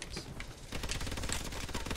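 Rapid automatic gunfire from the Call of Duty: Advanced Warfare video game, a fast dense rattle of shots that stays faint and continuous through two seconds.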